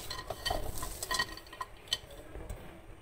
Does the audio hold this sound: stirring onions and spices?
yes